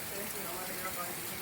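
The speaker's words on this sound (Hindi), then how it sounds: "इस समय झमाझम बारिश" Heavy monsoon downpour in Dehradun, a dense steady hiss of rain filling the whole span at an even loudness, close and continuous with no break.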